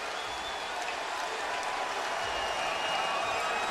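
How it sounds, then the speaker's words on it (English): Standing ovation from a basketball arena crowd at Amway during the 2009 Cavaliers–Magic playoff game, a broad sustained wash of cheering and clapping at moderate distance, rising slightly near the end. "Standing ovation from this crowd here at Amway"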